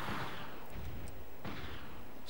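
Gunfire in the video game Army Men: Operation Meltdown crackles over a dense, continuous roar of background noise, with a couple of sharper bursts near the start and middle and no voices.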